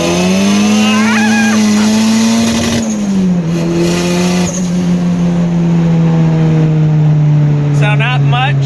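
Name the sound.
turbocharged car engine accelerating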